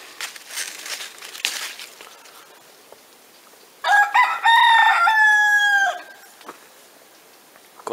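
A rooster crows once in the open air of a fig and apple orchard on a morning, a loud harmonic cock-a-doodle-doo standing out clearly over faint outdoor background rustle.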